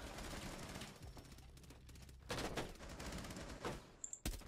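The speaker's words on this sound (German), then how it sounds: "ich schieße aber auf die Person auf dem Bild" Pistol and rifle gunfire in the tactical shooter Rainbow Six Siege, several sharp bursts spread across a few seconds with a loud final shot near the end, heard alone over a steady game background.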